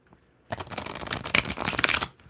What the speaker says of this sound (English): I just want to give them a good shuffle because we did just use these.